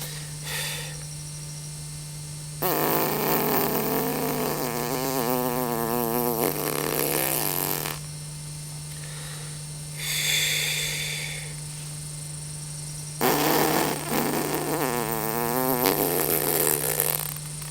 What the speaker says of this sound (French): je vais pousser l'air avec ma langue et commencer à faire du bruit. Commencer un petit peu à pétarader